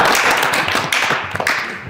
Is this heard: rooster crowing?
no